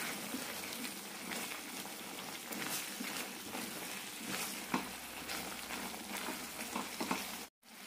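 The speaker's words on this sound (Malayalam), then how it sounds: "മീഡിയം ഫ്ലെയിമിലിട്ട് 2 മിനിറ്റ് തിളപ്പിക്കാം" Drumstick and onion gravy bubbling in a pan over a medium flame, a steady crackling sizzle with scattered pops, close and fairly even throughout before cutting out abruptly near the end.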